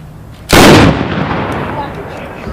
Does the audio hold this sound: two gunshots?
yes